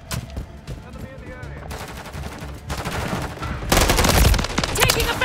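Loud automatic gunfire from the video game Call of Duty: Modern Warfare 3 rattles in rapid, overlapping bursts that build to a heavy barrage near the end, with shouted voices mixed in.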